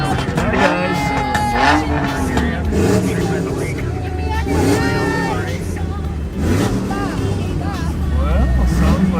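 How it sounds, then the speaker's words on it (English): Car engines revving nearby during a sheriff's patrol, rising and falling motor roars mixed with traffic noise, heard under continuous talk. "sounds like some of them are revving their cars inappropriately"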